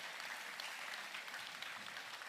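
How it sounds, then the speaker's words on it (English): An audience at a school NAIDOC Week assembly claps steadily, a dense wash of many hands that is fairly soft and sounds slightly distant, with no voices over it. "Can we have a big applause for Kyla and Cheyenne from grade 11?"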